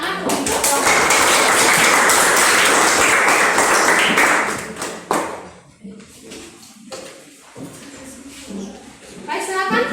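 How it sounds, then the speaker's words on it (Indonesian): A classroom of students claps together for about four seconds, loud and dense, then the applause breaks off into scattered taps, shuffling and children's murmuring voices in the room. "mari kita beri tepuk tangan untuk"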